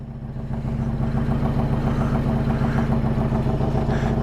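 A carbureted 1994 Harley-Davidson Softail Heritage Classic motorcycle warming up on a cold morning, its engine idling loudly and close with a rough, lumpy throb and mechanical clatter that rises in the first half-second and then holds steady.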